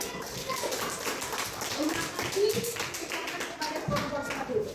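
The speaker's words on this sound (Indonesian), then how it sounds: "Mari kita berikan aplaus untuk kelompok 1" Children in a classroom clap for a group, a short ragged round of applause mixed with chatter and shuffling nearby.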